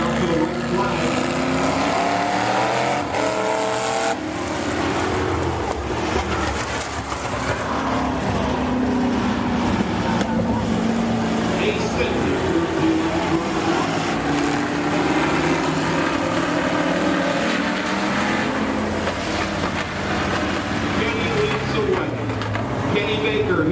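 Demolition derby cars and trucks racing on a dirt track, a loud, steady roar of several engines at full throttle that carries on without a break, with a voice talking underneath.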